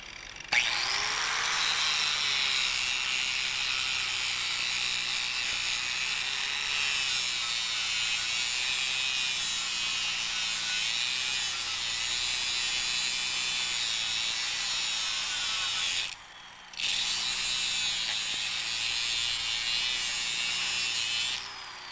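A power grinder whines steadily on a metal sculpture outdoors, loud and close, with a slight wavering pitch, cutting out briefly near the end before resuming.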